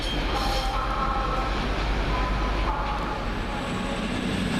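A Class 144 diesel train at Doncaster station, bound for Hull, heard as a steady loud rumble and drone of engine and wheels on the far platform, continuous with no talk.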